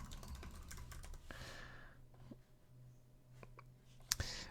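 Keys clack on a computer keyboard in quick, irregular bursts, close and fairly soft over a low background hum, ending with a sharper tap or two.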